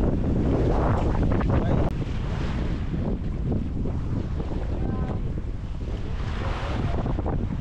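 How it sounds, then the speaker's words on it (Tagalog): Ocean waves on the Pacific wash steadily around a small boat on a rough morning, with heavy wind buffeting the microphone in a constant broadband roar. "yan na naman ang mga alon, mga kabisig. Oh no! Sa Pacific Ocean."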